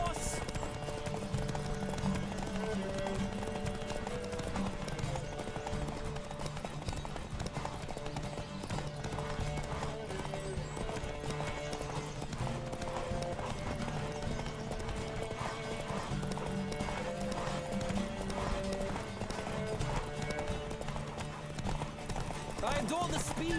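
Horse hooves clip-clop at a fast galloping pace in The Witcher 3, a steady loud rhythm with occasional whinnies, set against continuous orchestral game music and some voices.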